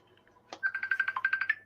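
A phone rings with an incoming call, a rapid pulsing electronic ringtone of about ten quick chirps in steady rhythm, moderately faint and heard without talk.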